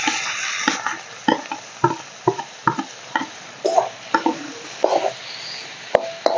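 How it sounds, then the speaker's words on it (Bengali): Boiled bottle gourd leaves tossed into a pan of lightly fried shrimp, with rhythmic spatula scrapes and knocks against the pan over a soft sizzle, close and fairly loud with no talk. "এখন এর মধ্যে দিয়ে দিব এই সেদ্ধ করা লাউ শাক।"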